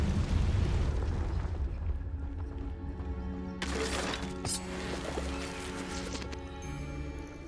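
A Confringo fire spell explodes in a wizarding video game: a deep boom opens, followed by a sharp crackling burst midway, layered over humming game sound effects.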